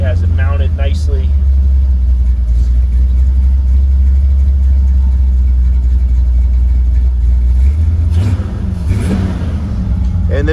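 A 1967 Chevrolet C10 pickup's 400 V8 engine rumbles steadily at idle, loud and close, then revs briefly near the end while a voice talks over it.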